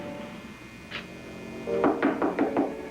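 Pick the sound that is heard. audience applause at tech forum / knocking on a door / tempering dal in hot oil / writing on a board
knocking on a door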